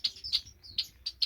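Parent birds chatter to their chicks in a birdshed, sharp bright chirps in quick bursts, about five calls close by with no talk.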